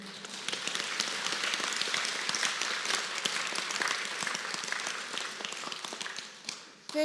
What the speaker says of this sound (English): Let's applaud Janino again.